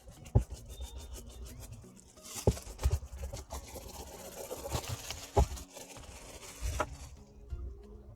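Scratchy bristles scrub back and forth in uneven bursts, close up, with a few sharp taps and knocks between strokes.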